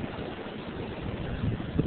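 Wind blowing hard during a New York snowstorm, a continuous broadband rushing roar buffeting the microphone, swelling slightly toward the end, with no talk.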